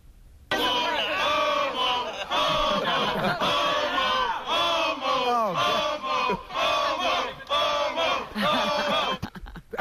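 Crowd jeering and shouting at Sal, loud overlapping chanting and yelling voices in rhythmic bursts, close and continuous before cutting off at the end.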